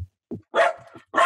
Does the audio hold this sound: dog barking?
yes